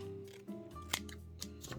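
Scissors snip through decorative mesh while making a Dollar Tree wreath, a few quick crisp cuts close by with light handling noise in between.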